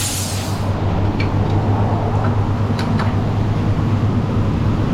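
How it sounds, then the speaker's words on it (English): A continuous loud hiss and low machine hum of an alignment machine inflating a Nissan's car tires with compressed air, steady throughout with a couple of faint clicks. "Let the alignment machine air these tires up."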